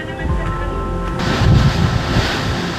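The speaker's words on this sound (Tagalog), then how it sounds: "grabe ganyan kalakas yung alon ngayon dito" Strong ocean waves surge and crash along the Romblon shore ahead of an incoming storm, loud and close, with a rushing swell midway and heavy wind buffeting the microphone.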